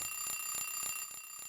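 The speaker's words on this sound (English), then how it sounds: "Turn off the alarm." An alarm rings in Silent Hill 3, a rapid electronic beeping in five evenly spaced bursts, moderately loud and heard alone.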